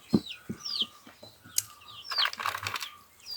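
A rooster crows faintly in a village setting, mixed with chirps from other birds and light rustling, soft and somewhat distant throughout.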